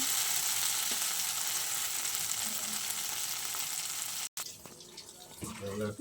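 Food frying in a pan at home cooking, a steady loud sizzling hiss that fills most of the clip before cutting off abruptly, followed by quieter kitchen clatter.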